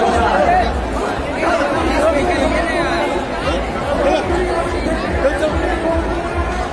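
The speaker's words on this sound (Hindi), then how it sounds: "ये देख रहे हैं आप कितना ज्यादा भीड़ है यहाँ पे भी बड़ी दुर्गा का विसर्जन के लिए।" A large, dense crowd at the Durga idol immersion in Munger, with a steady roar of chatter and babble from many people close by, while one person talks over it.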